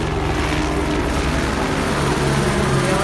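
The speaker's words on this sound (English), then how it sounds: "The LAPD chopper going by" An LAPD police helicopter flying by over Venice Beach, its loud close rotor roar steady and throbbing throughout, with no voices.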